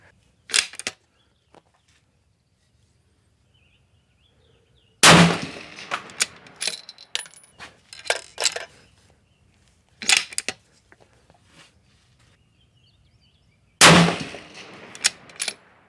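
A Howa 1500 rifle fires 6.5 Creedmoor match rounds, three sharp loud reports spaced several seconds apart, each followed by short clattering handling noises, with quiet stretches between.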